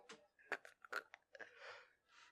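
Crunching a whole raw egg in the mouth: several sharp, close cracks and crunches of eggshell between teeth, followed by wetter, softer chewing sounds.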